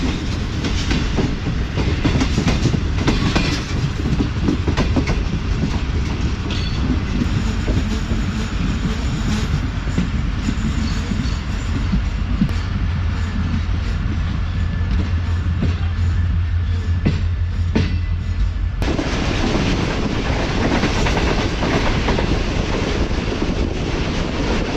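The Shalimar Express runs fast on rails in Pakistan with a loud, continuous rumble and rhythmic clickety-clack of the wagons, while wind buffets the microphone; the roar shifts in tone partway through.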